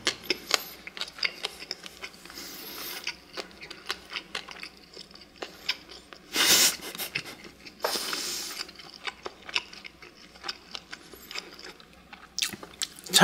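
Someone chews a tuna-mayo triangle kimbap with a crunchy pickled filling, loud close-up crisp bites and wet crunching in uneven bursts, with a few sharper crackles and no talking.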